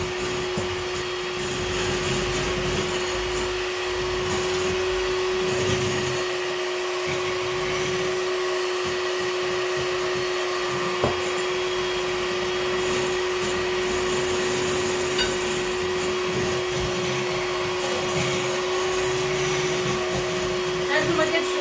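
An electric mixer whips cream for a mini cheesecake, a steady loud motorized whir with a constant tone that runs throughout without pause.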